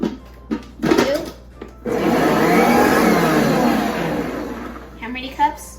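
A Bosch kitchen mixer churning cookie dough runs steadily for about four seconds, a loud whirring motor drone that fades slightly toward the end, with speech and kitchen clatter before and after.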